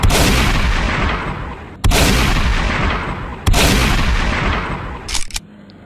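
Three heavy shotgun blasts boom from a zombie video game, each one with a long fading tail, followed by a short mechanical clatter.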